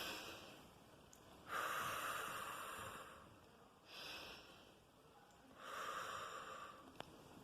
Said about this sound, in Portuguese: eu tava bem aqui treinando aquela respiração do coelhinho